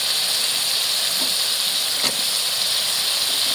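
Potatoes, new potatoes and eggplant hit a hot pan and sizzle in a continuous loud hiss, with a faint clatter or two breaking through near the middle.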